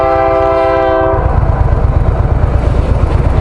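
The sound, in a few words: freight train with horn passing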